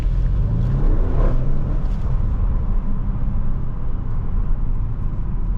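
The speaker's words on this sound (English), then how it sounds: "Can open this sunroof here, maybe we can get a little exhaust action." Deep engine rumble from inside an Audi RS7 with the sunroof open at night, swelling briefly as it revs, then settling into a steady low drone.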